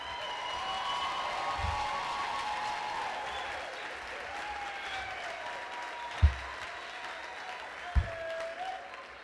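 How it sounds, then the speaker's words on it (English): Applause at an African American graduation ceremony held by Peralta Colleges: a large crowd claps in a steady, sustained wash at moderate distance, with a few louder thumps along the way. "Please give a round of applause for Gerald Robinson, your student speaker."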